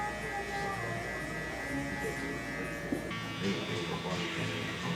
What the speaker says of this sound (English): there I am getting the fade going with the clippers